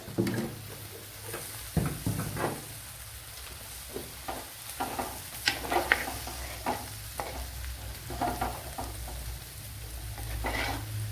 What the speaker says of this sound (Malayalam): മല്ലിപ്പൊടി ചേർത്ത് കൊടുത്ത് നല്ലതുപോലെ ഒന്ന് വഴട്ടിയെടുക്കണം